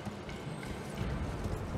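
A horse gallops in Elden Ring, a fast steady clip-clop of hooves under a dense, loud game soundscape with no pauses.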